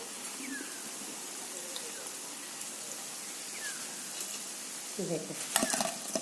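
Malpua batter fries in hot oil, a soft steady sizzle with faint hiss that stays low and even, then a few light clinks of utensils against the pan near the end.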